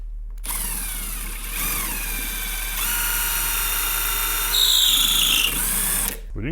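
A power drill bores at a 45-degree angle into the corner of a wooden base through a UJK drill guide, its high motor whine rising and shifting in pitch over several seconds before cutting off abruptly.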